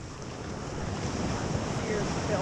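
Ocean waves break on a beach, a broad wash of surf mixed with heavy wind rumble across the microphone, building slightly in loudness.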